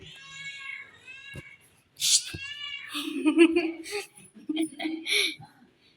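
A cat meows repeatedly in drawn-out, caterwauling cries, close and fairly loud, with a person talking in between.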